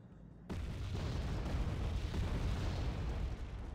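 Bomb explosions in the strategy game Wargame: AirLand Battle erupt into a loud, sustained rumbling roar of overlapping blasts that starts abruptly and holds for several seconds.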